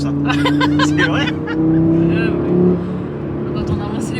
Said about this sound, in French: Ah, ça ronronne. Hein. Ah, ce 5 cylindres turbo